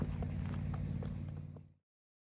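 A ridden Missouri Fox Trotter horse's hooves beat out a steady rhythmic clip-clop of walking steps, close and fairly quiet, fading out after under two seconds.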